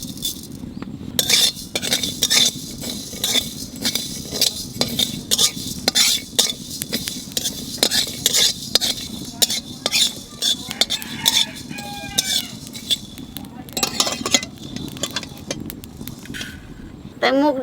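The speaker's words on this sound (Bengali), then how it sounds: "শুকনো খোলায় কটা জিরে আর ধনে বাজে নেব।" Cumin and coriander seeds are dry-roasted in a pan without oil, with a utensil repeatedly scraping, stirring and clinking against the metal up close, while a voice speaks at times.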